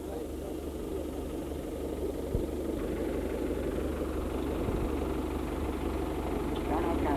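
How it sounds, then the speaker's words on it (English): A tractor engine idles steadily at a 1987 summer show field day while a loader and push-off bucket are attached, a continuous low drone with a couple of faint clanks and no speech. "and Gerard Breen trying to attach the loader and push off bucket to the tractor"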